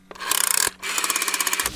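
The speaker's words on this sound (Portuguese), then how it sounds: "eu acho que um daqueles telefones antigos é o disco de marcação do telefone" Rotary dial of an old telephone being turned and released, giving two quick runs of rapid ratcheting clicks, close and fairly loud, with a short pause between them.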